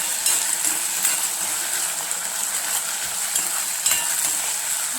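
Potatoes and onion fry in a pan while being stirred, giving a steady close sizzle with scattered sharp scrapes and clicks of the spoon against the pan and no talk.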